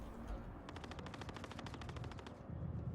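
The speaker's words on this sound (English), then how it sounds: "the turrets are now destroying my ship" Turrets fire on a ship in a space video game, a fast rattling burst of automatic gunfire over a low rumble, fairly quiet and steady, with no talking.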